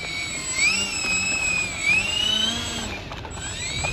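FlightLine OV10 Bronco RC model plane taking off, a steady electric whine with pitch rising and falling as the throttle changes, close and moderately loud, no talk.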